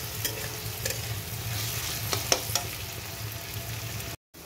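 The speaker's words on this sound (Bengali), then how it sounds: "দেখুন, একটু ভাজা ভাজা করে নিচ্ছি।" Whole cardamom, cinnamon and cloves frying in a pan for a chicken curry masala, giving a steady close sizzle with a few light scrapes of stirring, then a brief cut to silence at the end.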